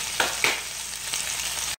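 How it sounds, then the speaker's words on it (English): Onions sizzle steadily in a hot pan, with a couple of sharp crackles near the start, close and fairly loud. "as soon as you throw them in, they start to sizzle"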